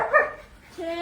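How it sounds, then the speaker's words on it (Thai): A dog gives a couple of short barks and yips, up close, followed by a higher whining tone; other dogs are around in an indoor setting where a man scolds them. "จะเห่าทำไมเนี่ย"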